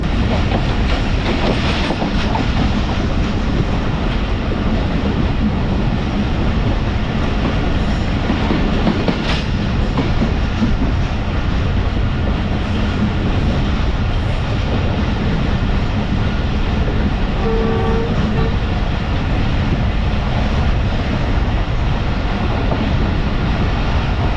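Pak Business Express passenger train running on rails between Rohri and Lahore, a steady loud rumble heard from inside with continuous clickety-clack of wheels over rail joints, no talk.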